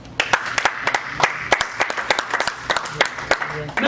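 Church congregation clapping in rhythm during a French-language worship service, steady repeated claps close by for several seconds, with voices faintly underneath.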